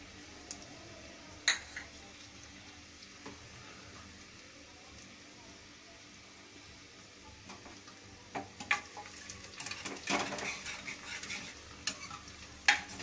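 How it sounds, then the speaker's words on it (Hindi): Two red chillies drop into hot oil seasoned with asafoetida in a home kitchen, a quiet steady sizzle with occasional stirring clicks and scrapes, growing busier toward the end. "छोड़ते हैं अभी लाल मिर्च दोनों,"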